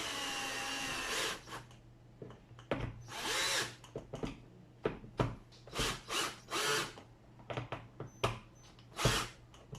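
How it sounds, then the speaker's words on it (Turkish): A cordless drill drives screws diagonally to mount outdoor garden lighting fixtures, giving repeated short bursts of whirring with brief pauses between them, close and loud, with no talking. "Vidaları diagonal bir şekilde montajlıyorum."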